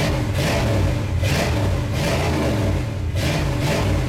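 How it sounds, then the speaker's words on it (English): Ford truck engine running just after a cold start, a loud, steady rumble kept below about 2,000 rpm, with rhythmic swells in pitch, close to the microphone and with no talking. "It's loud. I'm not revving the snot out of it."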